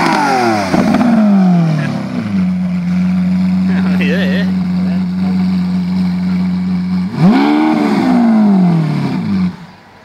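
A Lamborghini Aventador engine revs hard outdoors, with loud rising and falling sweeps around a long steady high-rpm hold and then a second sharp blip, while people talk nearby.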